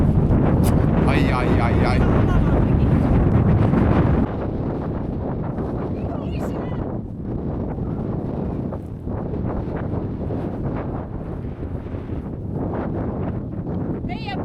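Strong gusts of wind buffet the microphone on an open fell in autumn, a steady loud roar that eases slightly partway through, with a voice briefly heard under it.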